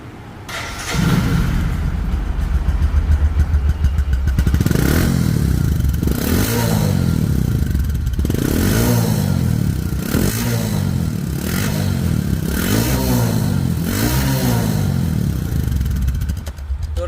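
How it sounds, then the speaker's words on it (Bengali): A 2023 Bajaj Discover 110 motorcycle engine runs close by, a loud steady idle with repeated revs rising and falling in regular surges, mechanical clatter underneath. "সাউন্ড শুনলে আপনারা বুঝতে পারবেন যে গাড়িটির ইঞ্জিন কোয়ালিটি কেমন আছে"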